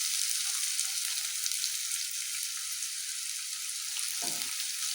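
Chopped onions fry in hot oil with garlic for a South Indian fenugreek and field-bean palya: a constant dense sizzle with a brief soft thump near the end.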